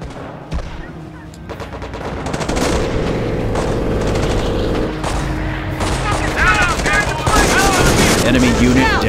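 Sustained machine-gun bursts and rifle fire rattle continuously through a World War II battle in Company of Heroes, with booming impacts mixed in and soldiers shouting over the din.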